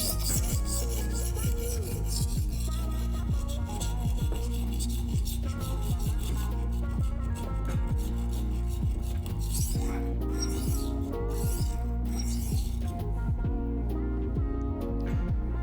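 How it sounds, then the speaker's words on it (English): A knife edge is sharpened on a HORL rolling sharpener stone, a continuous close rasping and grinding in repeated strokes over a persistent low hum. "If the Sharpie's not gone, you know you still need to do a little bit of sharpening away with that stone."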